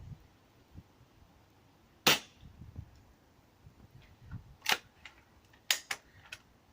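A Snow Peak camping stove's igniter is clicked repeatedly without lighting: a handful of sharp, isolated snaps spaced a second or two apart, close and crisp against a quiet background.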